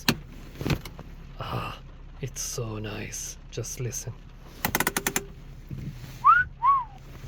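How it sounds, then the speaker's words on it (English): Someone talks, then a quick burst of sharp ratcheting clicks as the manual handbrake lever of a 2016 BMW 440i Gran Coupe is pulled up, close by, before he speaks again. "this one has the beautiful manual handbrake. Just listen to the beautiful sound of it."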